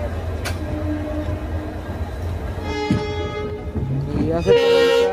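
Inside the general coach of the 12834 Howrah–Ahmedabad superfast express while running, a steady low rumble of wheels with rising and falling tonal whines and passengers' voices in the background.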